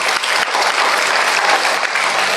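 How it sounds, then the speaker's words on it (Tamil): Audience at a government arts college anniversary event applauding teachers, dense continuous clapping close and loud throughout the short stretch. "நீங்கள் எல்லாம் இங்கே இருக்கிற ஆசிரியர்களுக்கு ஒரு நல்ல கைத்தட்டல் கொடுக்கணும்"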